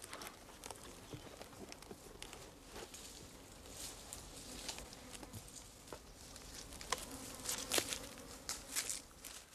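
Bees buzz faintly around a hive outdoors, a soft drifting drone with scattered clicks and light tapping, no one speaking.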